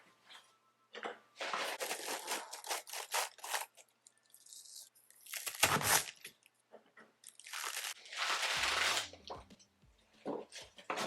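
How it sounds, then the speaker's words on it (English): A knife cutting a head of cabbage into quarters for kimchi, making repeated crisp, crunchy bursts with short quiet gaps between cuts, close and fairly quiet, with no talk. "Cut the cabbage into quarters."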